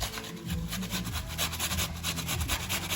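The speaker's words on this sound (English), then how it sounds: "Grate this onion into a bowl." An onion is scraped back and forth over a regular cheese grater into a bowl, giving rapid rhythmic rasping strokes, close and fairly loud, with no voices.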